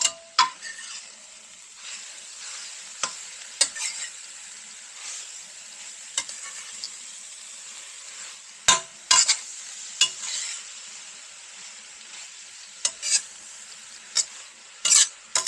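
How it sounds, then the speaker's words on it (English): A utensil scrapes and stirs spinach in a pot over a soft sizzle, with irregular clinks and scrapes of metal against the pan. "now let's stir that around"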